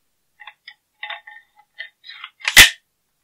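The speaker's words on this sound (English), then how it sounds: "We'll drop in our bolt carrier group." A bolt carrier group dropped into a CZ Bren 2S pistol, heard as a few light metallic clicks and taps of handling followed by one sharp, loud metal clack as the part seats, up close with no talking.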